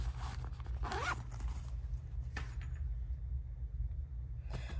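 The front zippered section of a JuJuBe bag is unzipped: a few quick, close, quiet zipper pulls with short scratchy bursts in a calm room.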